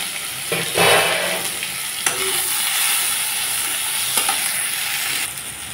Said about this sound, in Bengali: কালো জিরা ফোড়ন দিয়ে দিচ্ছি, টমেটো চেরা, 7-6টা কাঁচা লঙ্কা দিয়ে দিই।